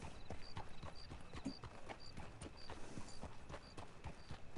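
Horse hooves clip-clop at an even walking pace in the Red Dead Online video game, clear and fairly close against quiet outdoor game ambience, with no talking.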